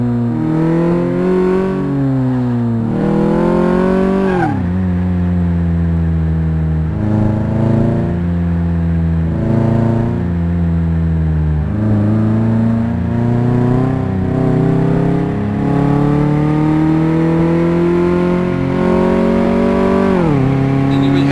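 A car's engine revs hard through a lap in the video game Car Mechanic Simulator 2018, rising in pitch with each gear and dropping at every shift, loud and continuous throughout.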